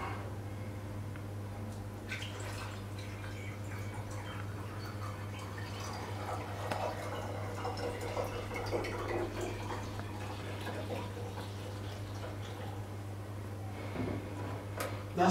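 Measured water is poured into a mixing bucket for homemade drain cleaner, a soft continuous trickle and splash over a steady low hum, with faint clinks along the way.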